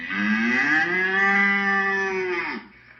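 A voice imitates a cow, a long, steady, loud moo that drops off sharply at the end, close and alone.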